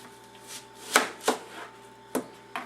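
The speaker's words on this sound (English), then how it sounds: "if you dice it, or mince it into really tiny pieces" A knife minces an onion on a cutting board in a few sharp, uneven strikes, close by, with quiet pauses between them.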